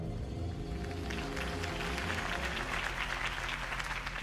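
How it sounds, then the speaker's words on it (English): Steady crowd applause and cheering in the video game Batman: The Telltale Series fills the scene over a low, droning musical bed, continuous and fairly distant. "If only Mr. Wayne, my campaign's largest backer, could have heard that applause"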